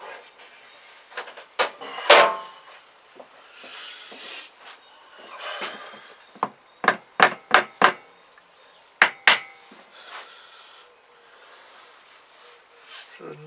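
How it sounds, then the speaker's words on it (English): A rubber hammer thuds repeatedly against metal parts of a Kawasaki GPZ500 engine, a run of sharp, close blows in quick bursts with pauses between groups. "Rubber hammer."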